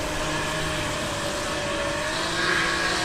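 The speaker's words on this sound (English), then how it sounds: "Turbocharged Supra 1JZ." A turbocharged Toyota Supra with a 1JZ engine drifts at a championship event, its engine roaring steadily under power with a rasping, continuous exhaust note and a slight rise near the end.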